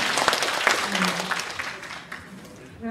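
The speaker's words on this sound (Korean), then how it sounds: "박수." An audience at a rural village development concert breaks into brief applause that fades over a few seconds, a voice speaking over the clapping.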